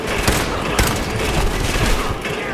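Dense, continuous gunfire and explosive booms in the video game Fallout 4, loud and close, filling the whole stretch with overlapping shots and rumble.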